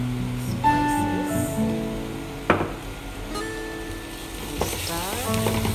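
Penne pasta with shrimps in tomato sauce is stirred in a pan over a low sizzle, with clinks of the utensil against the pan and a few sharp knocks, while faint background tones run underneath.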